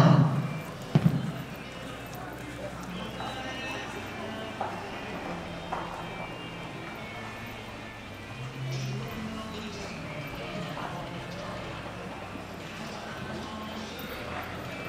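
Horses' hooves clip-clop at a steady walking pace on soft ground at a novice amateur hunter under saddle horse show class, fairly faint, with a broad ambient hum and occasional voices.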